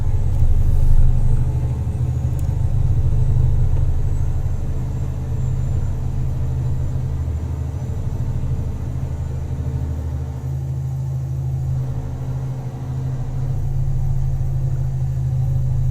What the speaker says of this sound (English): Oh, rumble strip.